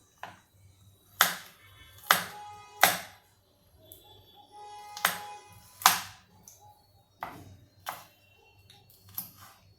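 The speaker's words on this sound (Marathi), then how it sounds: "तो लसूण मी आता बारीक करून घेते" Garlic is being chopped finely with a knife on a board in a home kitchen. Sharp, close taps come in irregular bursts over a quiet background, with no talking.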